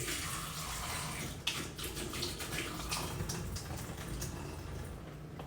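Water pours steadily out of an opened burrata package in a continuous close splashing trickle, with a small clunk partway through and no voices.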